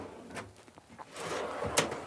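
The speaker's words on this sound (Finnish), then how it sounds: "täällä on vielä sitten toinen iso vetolaatikko" A large pull-out drawer in the kitchen of a Niesmann + Bischoff Arto 79E motorhome slides open or shut, a short soft rumble ending in a light bump, close by and quiet.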